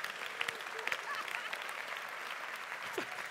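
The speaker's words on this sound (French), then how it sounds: "On applaudit Martin, mesdames et messieurs." Steady applause from a comedy show audience fills the room, a dense patter of many hands clapping with a few louder claps standing out.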